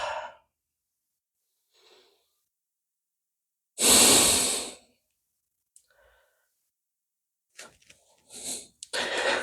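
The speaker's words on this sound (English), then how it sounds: "Breathe in. And breathe out." A loud, close exhale during a yoga class flow, one strong breath in the middle after near silence, followed by a few shorter breathy sounds toward the end, with no talking.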